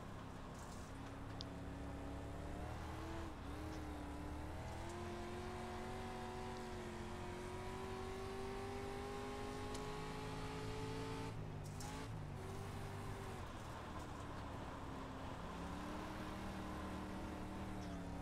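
Street stock race cars tear around a speedway oval, with several engines droning and rising and falling in pitch as they race. The loud, continuous roar carries no talk.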